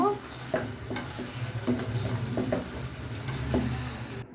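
Kochur loti with prawns being stirred and sautéed in a pan, soft scattered ticks and scrapes of a spatula over a low continuous sizzle, close and fairly quiet.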